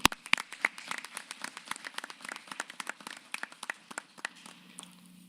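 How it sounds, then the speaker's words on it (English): Sparse, scattered clapping from a small audience at a public library board of trustees meeting, a handful of hands striking in an uneven rhythm for about five seconds with no talk over it. "A round of applause for our"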